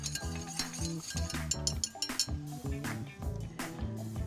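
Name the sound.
whisking glaze ingredients in a bowl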